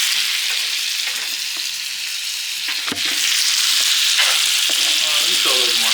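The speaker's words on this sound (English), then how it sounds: "And you got the potato cooking." Potatoes fry in a pan with a dense, steady sizzle that holds loud and close throughout, broken by a few faint clinks and stirring scrapes.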